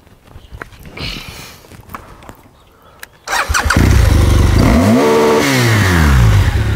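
Quiet shuffling and clicks, then a BMW motorcycle engine starts with a sudden roar and revs up and down loudly.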